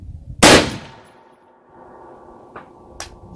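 A Desert Tech MDR 6.5 Creedmoor rifle fires at a steel ram target 540 away: one loud, close gunshot with a lingering decay, followed by faint distant metallic pings.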